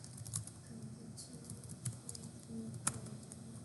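A computer keyboard gives a few quiet, scattered clicks over soft room noise during a statistics lecture, including several sharper taps.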